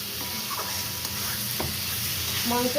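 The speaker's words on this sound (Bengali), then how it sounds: "এবারে আমি কষছি মাংসটা" Goat meat being stir-fried (kosha) with salt in a pan, a steady close sizzle with light stirring scrapes throughout, fairly loud and continuous.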